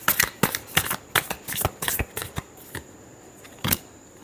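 Tarot cards being shuffled for a reading, a run of crisp riffling flicks and slaps close by, coming in quick bursts that thin out toward the end with one last sharp snap.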